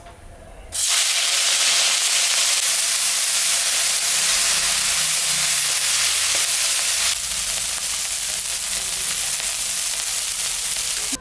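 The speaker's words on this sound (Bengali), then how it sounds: "তেল দিয়ে দিলাম, তেল গরম হয়ে গেছে, মাছটা এখন আমি ভাজবো" Fish drops into hot oil in a heated wok and bursts into a loud, continuous sizzle and hiss that holds steady for over ten seconds, easing slightly near the end.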